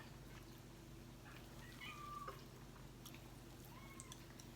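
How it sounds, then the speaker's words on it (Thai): A cat gives a couple of faint, short meows, spaced a few seconds apart, over a low constant hum and quiet background noise. "เสียงแมวหน่อย"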